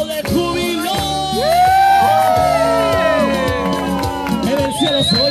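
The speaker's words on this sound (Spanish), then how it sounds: "Un grito de júbilo." Crowd at a parish youth bonfire gathering shouting and whooping for joy, with rising excited cries and loud cheering over a dense, sustained babble of voices.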